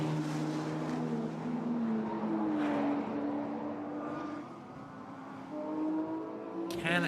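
Race cars on the Vila Real street circuit in Portugal run together, their engine notes rising and falling in steady, moderately distant drones, with one car's pitch sweeping upward near the end.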